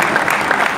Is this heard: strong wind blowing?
no